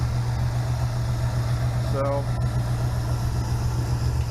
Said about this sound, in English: engine seems to be running pretty good.